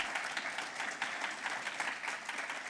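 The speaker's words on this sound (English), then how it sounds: "that's a big round of applause, isn't it, at that point, everyone?" A big round of applause fills a room at a housing awards event, dense steady clapping from many hands, moderately distant, with no talking.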